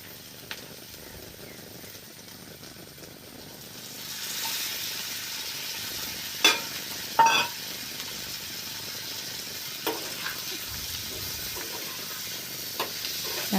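Bitter gourd and raw prawn pieces fry in oil in a pan, giving a soft continuous sizzle that swells after a few seconds, with occasional sharp utensil clicks and knocks nearby.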